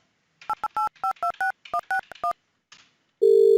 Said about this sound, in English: I'm making a call using desktop app like I am now.